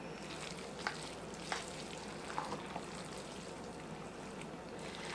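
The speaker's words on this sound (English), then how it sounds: "I'm just going to continue to stir this" Chicken spaghetti made with home-canned chicken being stirred in a pot: a quiet, steady bubbling hiss with a few faint scrapes and taps of the spoon.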